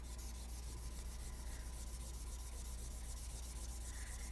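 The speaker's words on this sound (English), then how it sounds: "it feels so good just rubbing it across" Soft pastel is rubbed across paper in a continuous, even, close scratchy rasp that holds steady throughout with no voices.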